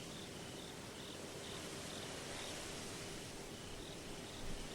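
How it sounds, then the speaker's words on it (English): Insects buzz and chirr in a steady, unbroken drone across a quiet mountain scene in a visual novel game, faint and even throughout, with no voices. "I can hear the occasional buzzing of insects,"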